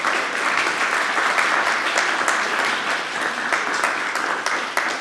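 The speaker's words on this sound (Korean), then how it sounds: "뒤에서 우리 박수 한번 하십시오" Church congregation applauding during a Korean Presbyterian retirement and installation thanksgiving service in Montreal; dense, steady clapping fills the room at a fairly loud level throughout, with no talk over it.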